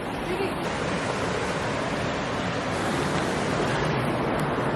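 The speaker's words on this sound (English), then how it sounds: "This is the Colorado River here." Broad, steady rushing of Colorado River water flowing over rocks, a continuous loud wash with no clear rhythm, heard alone and close up.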